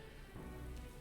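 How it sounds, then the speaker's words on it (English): Steady rain falls in the video game Metaphor: ReFantazio, a faint, even hiss of drops on surfaces with no other sounds. "This rain just won't cease."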